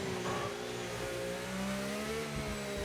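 A race car in a racing video game accelerates hard out of a corner, its mid-pitched engine note climbing steadily through the revs, loud and close and heard alone without talk.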